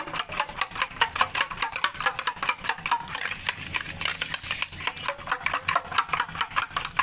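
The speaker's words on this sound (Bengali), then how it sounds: "ডিমটা ফাটাই নেব" Eggs with Maggi masala and a pinch of salt are beaten briskly in a bowl, giving a fast, continuous clatter of light utensil clicks and taps.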